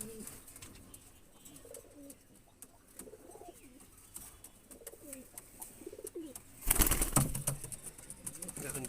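Domestic Andra and Malwai pigeons kept at home coo softly in low rolling phrases, then a sudden burst of wing flapping erupts near the end, fairly close and moderately loud.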